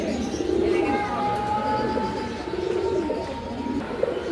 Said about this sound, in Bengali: সুন্দর এক জোড়া কবুতর, কালারফুল কবুতর